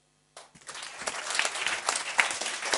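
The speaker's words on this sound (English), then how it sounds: "So one clap." An audience bursts into applause after a brief silence, a dense patter of many hands clapping that builds and holds steady, heard during a talk at a camp about an Everest Base Camp expedition.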